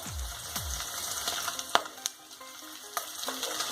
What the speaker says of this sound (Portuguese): assim que der uma breve fritada no bacon, nós vamos colocar a calabresa